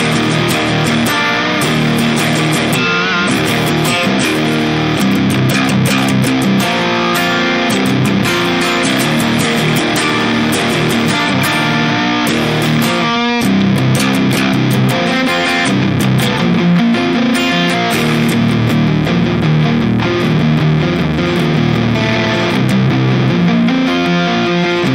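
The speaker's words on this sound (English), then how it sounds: "this is our reference tone of the Black Sails Distortion from the Sound of Justice FX going into" Electric guitar runs through a Sound of Justice FX Black Sails Distortion pedal into a 4x12 Greenback cabinet, playing loud, dense distorted chords and riffs continuously throughout.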